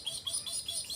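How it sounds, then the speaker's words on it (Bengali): Birds chirp and call at a large wetland in a quick run of bright, repeated tweets, fairly close and clear, with no talking. "পাখির ডাক শুনতে পাচ্ছেন"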